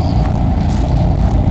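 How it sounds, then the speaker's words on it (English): A truck rolls past with a loud, steady engine rumble that holds evenly throughout, with no clear rise or fall. "Now, what type of truck's that? It's a truck."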